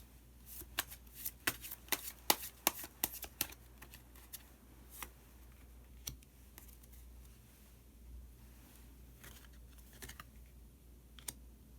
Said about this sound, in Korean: 카드 한 장을 더 뽑고 이야기 계속 나누도록 하겠습니다